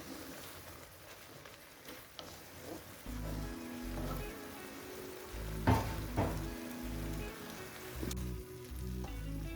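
Shrimp in tamarind sauce stir-frying in a pan, a steady close sizzling hiss with crackling spatters and occasional stirring scrapes, no talking.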